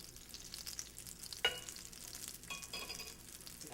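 Egg mixture for a raspberry cream cheese dessert omelette cooks in a pan with a soft, steady sizzle, plus a couple of sharp utensil clinks against the pan, no talking.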